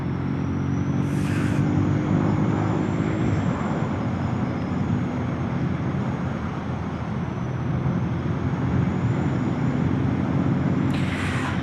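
A car drives along a road through flood-hit country in Belgium and Luxembourg, its steady engine and tyre rumble holding at close range for the whole stretch with no talk.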